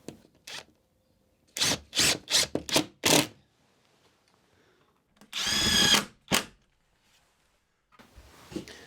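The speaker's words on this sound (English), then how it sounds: "Just going to get some screws in from the underside just to lock these shelves in." A power drill drives screws up from the underside of workshop shelves to lock them onto their brackets, in a series of short, loud whirring bursts with pauses between, then one longer burst and a final brief one.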